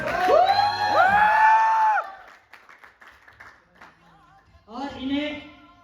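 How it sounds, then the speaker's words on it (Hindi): Audience at a speech event breaking into loud clapping and cheering to welcome Mr Vyas, with bright sustained whoops at first, then fading to scattered claps, before cheering rises again near the end. "आप लोग एक जोरदार तालियों के बीच में इनवाइट कर रहा हूँ मिस्टर व्यास सर को"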